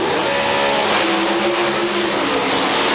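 A Pro Stock drag race car, a Pontiac Firebird, roars at high power in a loud, sustained engine blare with no break for the whole moment.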